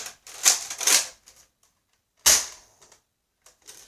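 A Nerf Mega Magnus toy blaster fires with sharp, close bursts of released air, two quick shots near together and another after a pause, then faint clicks of handling.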